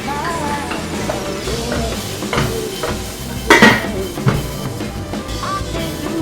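Garlic goes into a pot of softened onions for a potato soup base and gets stirred, a spoon scraping and clinking against the pot over a soft sizzle, with a couple of louder metallic knocks partway through.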